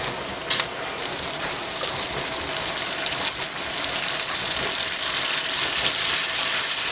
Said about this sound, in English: So I'm gonna go ahead and add the beans now.